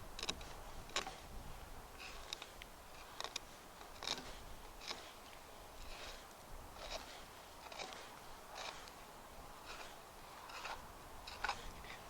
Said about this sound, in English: Now I'm just going to run the tip of my knife along the rib cage. You can hear it.